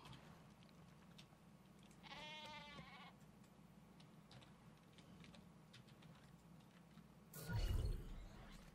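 A sheep bleats in the video game ARK: Valguero, a short run of wavering cries rising over steady game ambience, followed later by a louder thump.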